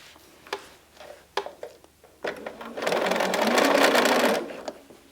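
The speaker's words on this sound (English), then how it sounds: "You're just going to make sure everything is smooth on that neckline when you're sewing it." A sewing machine stitches a neckband onto a stretch-fabric neckline, running in one steady whirring burst of about two seconds after a few soft clicks and handling taps.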